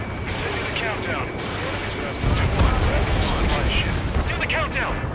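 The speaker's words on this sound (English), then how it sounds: "An explosion inside!" Explosions and heavy gunfire from the combat flight game Ace Combat 7 rumble continuously, with the booming growing louder partway through.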